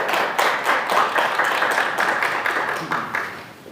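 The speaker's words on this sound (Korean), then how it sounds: "박수 한번 쳐주세요." Church congregation applauding during a Wednesday worship service, a steady run of hand claps from a modest crowd, close and evenly paced, slowly tapering near the end.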